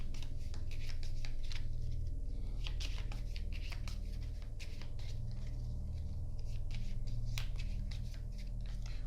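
Steady crisp riffling and flicking of cards from the board game Goetia: Nine Kings of Solomon being shuffled up close, over a constant low hum in the background.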